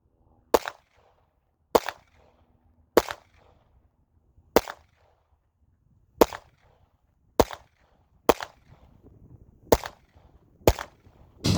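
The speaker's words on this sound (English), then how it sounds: "we've shot a bunch of rounds at both targets" Nine sharp gunshots ring out at a shooting range aimed at homemade and name-brand targets, loud isolated cracks spaced roughly a second apart with brief decays between them.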